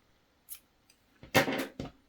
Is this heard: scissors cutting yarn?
yes